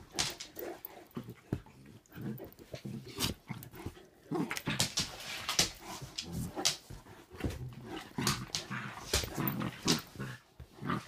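Two puppies, an English Mastiff and a Bernese Mountain Dog/German Shepherd mix, play close by with bursts of whimpers, yips, grunts and short barks, irregular and fairly quiet, broken by brief pauses.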